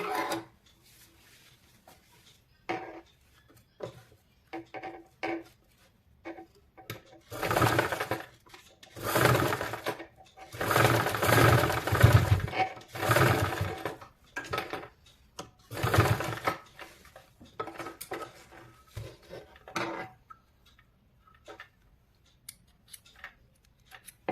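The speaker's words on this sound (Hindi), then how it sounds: "जिप जैसे स्टिच की थी उसी लाइन में इसे स्टिच कर लेना है" A sewing machine stitches elastic onto a pair of ladies' pants, running in several loud sustained bursts separated by short pauses and softer handling and fabric noises.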